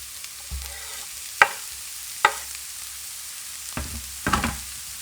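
Garlic and onion sizzle in a hot pan with a soft, steady frying hiss, punctuated by several distinct clacks and scrapes of a utensil moving the pieces around, close by and without talk.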